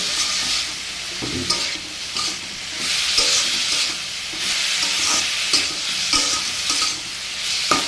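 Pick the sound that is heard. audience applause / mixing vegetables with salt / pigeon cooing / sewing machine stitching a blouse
mixing vegetables with salt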